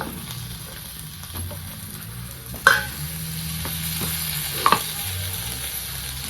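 Chopped, washed bitter gourd fries in hot oil with turmeric, giving a steady sizzle broken by a couple of sharp spatula knocks and scrapes against the pan.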